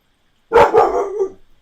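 A dog gives one close, loud bark that trails into a short whining yelp, alone against silence.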